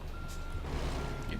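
A truck in the driving game American Truck Simulator backs up with a steady electronic reversing beep, a thin repeating tone over engine rumble that stops partway, with a voice talking over it.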